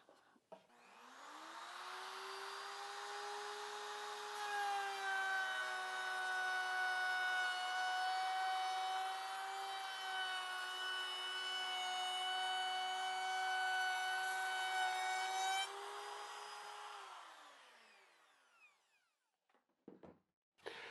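A trim router fitted with a round-over bit cuts a clamped wood test piece on a workbench, a steady high motor whine that spins up, holds for about fifteen seconds while the bit bites, then winds down.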